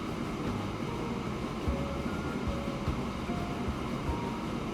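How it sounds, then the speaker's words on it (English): An iron ore freight train in the video game Transport Fever 2, a steady rolling rumble with faint rhythmic clacks of wheels over rail joints, continuous and moderately loud with no talking. "You can see the iron ore train is already pulling in behind it."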